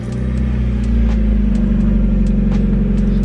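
A Mazda Miata engine running steadily right after starting, a loud, close, even mechanical hum with a deep low rumble that holds for a few seconds, with no voices over it.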